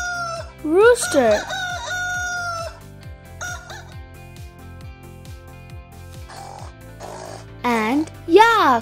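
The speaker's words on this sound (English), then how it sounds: "Rooster." A rooster crows loudly twice, with full cock-a-doodle-doo calls, over a steady rhythmic thumping backing beat, alongside other brief farm-animal calls.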